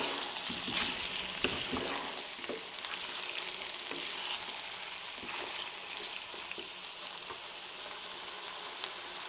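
Chicken curry with potatoes and peas frying in a pan as tomato paste is stirred in: a steady, close sizzle with scattered scraping strokes of the spoon throughout, no voices.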